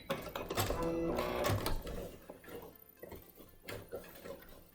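Sewing machine stitching a reinforcing back stitch on zipper bedding, running in close bursts with a busy mechanical whir and a clicking rhythm that eases off partway through.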